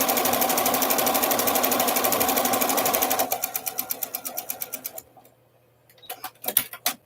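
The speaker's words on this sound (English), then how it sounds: "So let's stitch that up." A sewing machine stitches quilt blocks with a fast, loud run that slows into separate stitches and stops, followed by a few scattered clicks and handling sounds.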